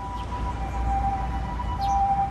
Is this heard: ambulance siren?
yes